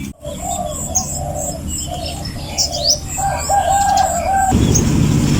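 Domestic chickens cluck and call outdoors in a garden where bananas are being planted, with other birds chirping steadily around them. The calls layer into a busy, continuous backdrop with no speech.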